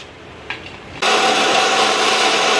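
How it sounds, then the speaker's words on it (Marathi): A mixer grinder switches on and blends pineapple with sugar into juice, starting abruptly after a brief click and then running as a loud, steady, close whirring roar without talk. "आतां हांव जार दाखयता आनी मिक्सर मारता."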